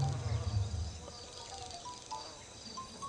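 Flies buzzing close by in a natural setting, a dense wavering drone with a low rumble at the start, moderately loud and continuous throughout with no talking.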